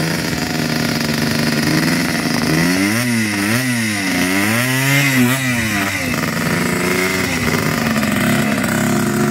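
A dirt bike engine revs hard near the mic. Its pitch climbs and falls in several quick surges before it drops back to a buzzing, steady run.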